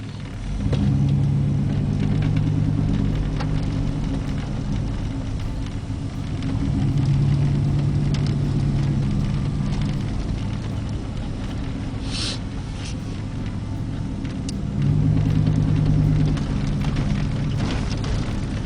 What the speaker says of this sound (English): Another ride in the Kabul back roads.